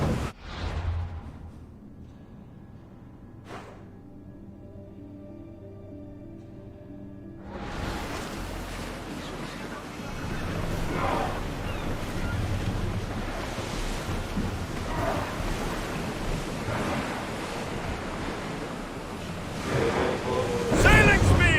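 A ship under sail on the open sea in Assassin's Creed Odyssey, with a brief muffled thud at the start and then a steady rush of waves and wind that swells louder and continues to the end.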